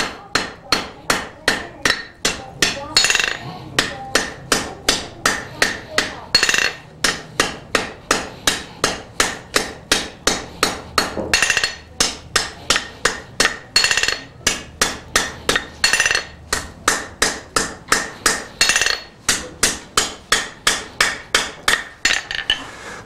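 A blacksmith hammers steel over the horn of an anvil, a long run of loud, sharp, evenly paced ringing blows with brief pauses between groups.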